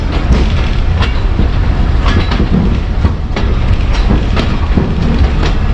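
The Mianwali Express runs on rails with a loud, steady rumble and repeated clickety-clack of wheels over joints, heard close and continuous without talk.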